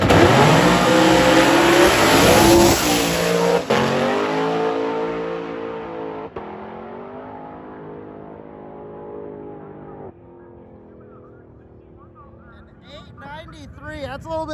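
A drag racing car makes a pass at Orlando Speed World, its engine roaring loud and high through the run, then fading away into the distance as it pulls off down the strip.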